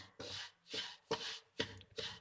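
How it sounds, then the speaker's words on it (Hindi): A spoon scrapes and stirs semolina roasting in oil in a pan, five soft rhythmic strokes, close and fairly quiet. "चम्मच हिलाते हुए इसे भूनेंगे"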